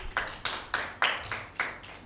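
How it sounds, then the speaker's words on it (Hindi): Clapping for a team at a school Bible quiz, heard as about seven distinct, evenly spaced claps in a slow rhythm, fairly close and clear with no talk over them. "टीम बी के लिए भी भरपूर तालियां"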